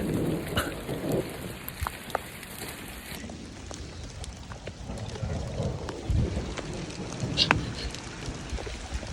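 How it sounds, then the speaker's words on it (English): Rain mixed with pea-sized hail falls during a Colorado mountain hailstorm, a steady dense patter with scattered sharp ticks on nearby surfaces and a low rumble, heard close without talking. "It's starting to rain pretty good and about pea-sized hail right now."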